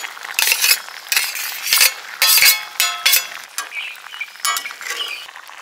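Paneer cubes go into a pan of boiled potato curry, met by repeated metal clinks and scraping stirs of a spoon against the pan, loud and close with an irregular rhythm and no talking.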